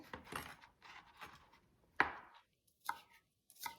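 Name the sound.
chopping garlic finely with a knife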